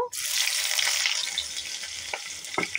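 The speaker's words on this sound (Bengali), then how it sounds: "পেঁয়াজগুলো লাল লাল করে ভেজে তুলে" Onions sizzling and crackling in hot oil, a loud steady fry that softens slightly, with a few scraping stirs near the end.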